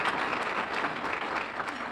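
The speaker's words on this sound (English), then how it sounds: "so give a round of applause there" A room of members claps steadily at a Bloomington Rotary Club Tuesday luncheon, dense sustained applause throughout, fairly close and loud.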